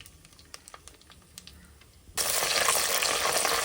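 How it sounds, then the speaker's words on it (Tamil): Whole spices, cloves, stone flower, fennel, cumin and cinnamon, hit hot oil for a Tamil mutton kulambu: faint handling clicks, then an abrupt, loud, steady sizzle that fills the rest of the stretch with no talking. "கிராம்பு கல்பாசி சோம்பு சீரகம் எல்லாத்தையும் போட்டுடலாம்"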